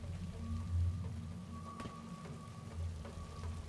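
Rain falls steadily in the Singularity video game, a continuous hiss with low rumbling beneath and a few sharper drops or cracks.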